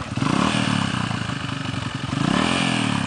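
A motorcycle rides over rocks on a rough trail, its engine revving loudly and close with rattling clatter and scraping as it bumps along.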